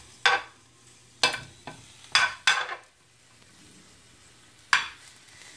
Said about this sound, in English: We're just roasting it to bring out the flavor of the garlic leaves and the green onion.